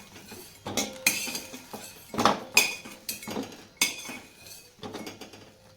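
Fried brinjals are lifted out of a pan of hot oil, producing a run of sharp metallic clinks and scrapes from a utensil against the pan, irregular and close, with no talking.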